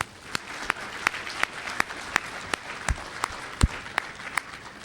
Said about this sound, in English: Let's give a good round of applause for the goons out here